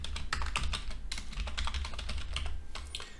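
Steady, fast typing of C++ code on a computer keyboard, with dense, irregular key clicks close by and no speech over them.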